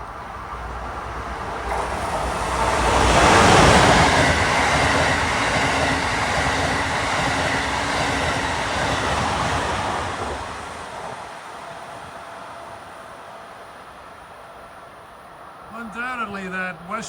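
An Amtrak train, number 2255 on the Boston–Washington run, passes through a four-track station platform on the Bridgeport–New Haven corridor. It swells into a loud rushing roar with rhythmic wheel clatter, then fades, and a voice speaks near the end.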